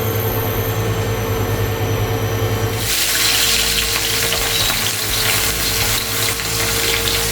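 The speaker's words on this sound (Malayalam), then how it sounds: "പാൻ വെച്ചിട്ടുണ്ട്, ചൂടായിട്ടുണ്ട്. ചൂടാകുമ്പോൾ നമുക്ക് സൺഫ്ലവർ ഓയിലാട്ടോ ഞാൻ ചേർക്കുന്നത്." Sunflower oil hitting a hot frying pan, a sudden loud hiss that starts partway through and then holds as a steady, close sizzle over a faint background hum.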